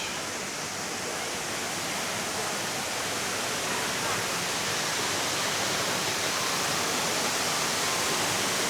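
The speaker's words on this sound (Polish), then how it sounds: "Jest jakiś wodospad." Steady rushing water from a waterfall at a café in Chiang Rai, Thailand, a continuous broadband roar that holds at an even level throughout, with no voices.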